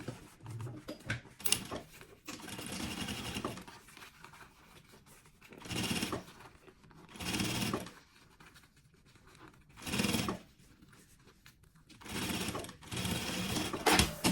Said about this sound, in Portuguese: Essa parte onde tá aberta, eu vou fazer aquela costurinha, fechando todo o nosso material.